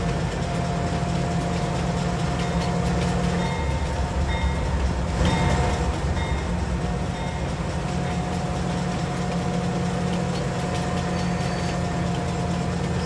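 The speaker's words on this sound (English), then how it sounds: "Amtrak engine over here." Steady idling rumble of an Amtrak locomotive engine in Farming Simulator 22, a continuous low drone with faint rail clatter, heard alone and unchanging throughout.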